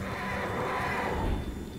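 A horse whinnies in the World of Warcraft video game, one drawn-out neigh heard fairly close over a steady background wash, with no speech.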